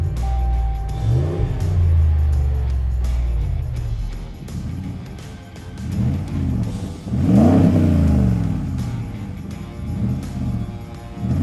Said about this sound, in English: Down here, we have the dual exhaust. This thing sounds awesome.